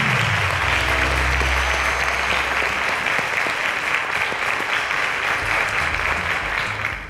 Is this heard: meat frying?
no